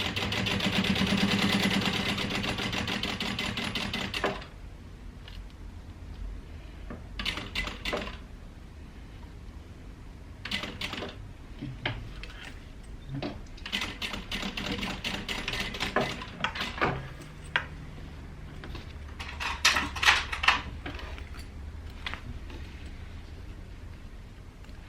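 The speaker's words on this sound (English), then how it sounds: "I'm top stitching roughly about 1/8 inch" A sewing machine top stitching a crossbody bag about 1/8 inch from the edge: a rapid, even needle chatter runs for several seconds at the start, followed by scattered short bursts of stitching and handling clicks.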